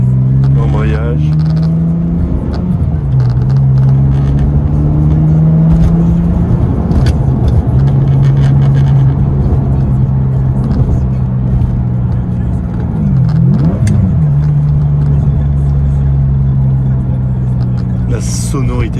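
A Ferrari 550 Maranello's engine is heard from inside the car, a steady low drone that rises and falls as it revs and shifts, with someone talking over it.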